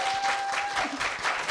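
Warm, continuous audience applause greets a middle school student walking up at a 2017 speaking festival held at Korea University, a full room clapping steadily at close range.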